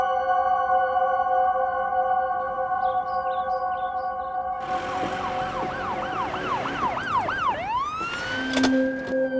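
An ambulance siren starts near the middle, wailing in a rising and falling cycle over a steady background hum and growing louder as it approaches, with no talk.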